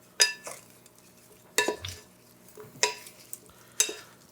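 Tomato, garlic and basil salad being mixed in a bowl, four distinct clinking, scraping tosses of utensils at roughly one-second intervals, close and crisp, no voices.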